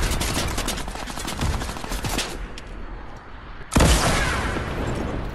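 Loud, dense bursts of automatic gunfire crackle in Fortnite, a nearly continuous barrage with a brief lull before the shooting resumes.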